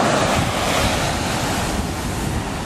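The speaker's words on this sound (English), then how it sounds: "That's the wave right there." Ocean waves of the Indian Ocean washing onto the shore, a steady broad roar of surf with wind buffeting the microphone, close and continuous throughout.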